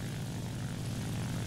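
The propeller engine of a J2M3 fighter plane in the War Thunder video game drones steadily, a continuous even roar with no voices over it.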